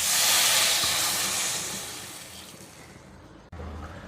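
Crab masala gravy with added water and curry leaves bubbling in a pot, a broad steady hiss that slowly fades, then a brief break and a quieter simmering hiss.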